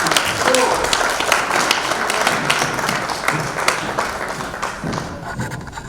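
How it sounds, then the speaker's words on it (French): An audience at a Quebec political gathering applauds as the Liberal member for Bourassa-Sauvé is welcomed, a full burst of clapping that gradually thins and fades over several seconds, with a few thumps and voices mixed in. "Une bonne applaudissement."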